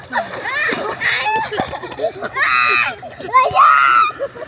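Water splashes and sloshes continuously as people swim in a shallow river, with children's voices shouting and talking excitedly over the churning water throughout.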